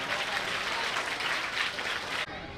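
Sustained applause from an audience at a school ceremony honouring a guest with a shawl, steady dense clapping that cuts off abruptly near the end.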